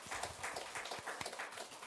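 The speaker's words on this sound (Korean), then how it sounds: "우리 하나님께 영광의 박수 돌리겠습니다" A church congregation applauding at the close of a Sunday worship service, a dense rolling wash of many hands clapping together, steady and fairly distant.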